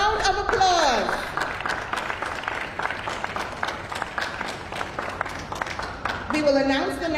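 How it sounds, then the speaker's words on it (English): Audience at a nurse of the year ceremony applauds the nominees, a steady wash of clapping, with a voice speaking briefly at the start and again at the end. "So again, I ask you to give them a round of applause."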